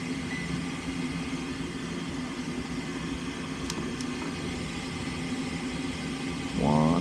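A faulty induction fan motor in an Air Temp furnace runs with a low, steady hum and drone, and a brief click is heard partway through. Near the end a louder, warbling tone rises in.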